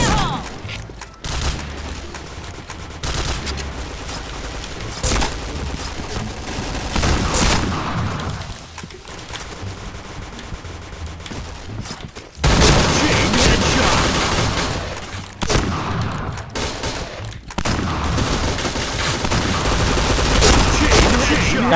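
Rapid bursts of gunfire from the Point Blank online shooter, loud and dense, with repeated volleys and brief pauses across the whole stretch.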